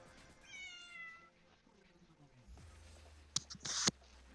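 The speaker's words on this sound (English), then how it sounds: "your cat sounds like every cat in an NPC or an RPG ever" A pet cat gives a drawn-out, fairly faint meow, followed by a few close clicks and rustles.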